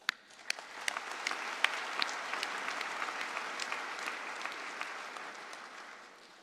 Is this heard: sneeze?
no